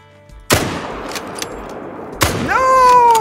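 Rifle shots fired at whitetail deer in the hunting game Call of the Wild: two sharp, loud cracks about two seconds apart, each with a short echoing tail, the second followed by a rising tonal ringing.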